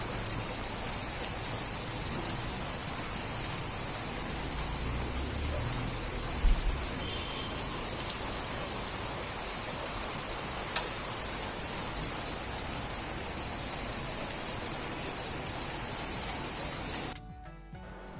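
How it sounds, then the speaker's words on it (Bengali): Light rain falls outside, a steady soft hiss of drops with a few faint ticks and taps, continuing for most of the span before cutting off near the end. "এই যে বৃষ্টি নেমেছে, কিন্তু অত জোরে না, হালকা।"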